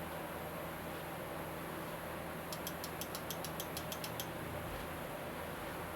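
A Q58 mini PC running on an ATX power supply gives off a quiet, steady fan whoosh, with a short run of light, regular ticking clicks partway through.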